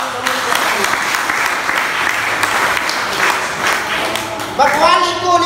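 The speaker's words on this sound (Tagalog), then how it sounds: "Palakpak na to." A church congregation applauding, a steady crowd clap filling the room for several seconds, then a voice rising over the fading claps at the end.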